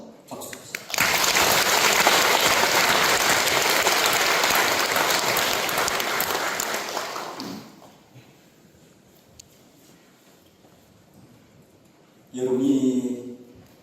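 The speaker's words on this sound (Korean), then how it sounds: "다시 한번 박수 주세요" Applause at an Easter union worship service in a church in Bonghwa county: a congregation claps loudly and steadily for about six seconds, then fades out into quiet, with a short voice at the end.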